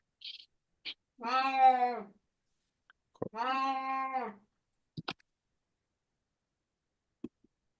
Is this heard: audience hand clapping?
no